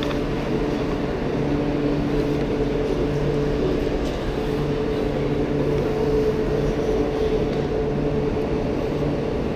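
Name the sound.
high-speed train at the station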